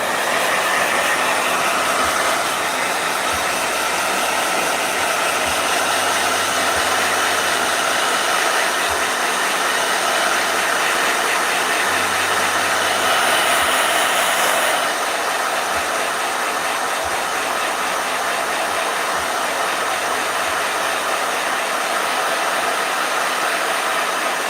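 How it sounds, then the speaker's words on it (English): A blow dryer running continuously at close range, a loud steady whirring roar with slight shifts in pitch and airflow, sustained throughout with no voices. "Blow dryer."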